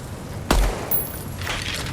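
A single sharp gunshot cracks out at a video game firing range in Deadrop, with a heavy low thump and a brief tail, then quiet room tone.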